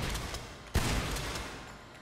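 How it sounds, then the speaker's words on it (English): A bullpup shotgun fires at the Ammu-Nation shooting range in GTA V: a single sharp blast midway through against a steady noisy background, with no talk. "Okay, bullpup shotgun."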